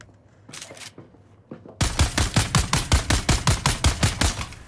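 Gunfire in the Dune Awakening game starts with a few sparse shots, then turns into a steady rapid burst of about fifteen evenly spaced loud, close reports, with no talk over it.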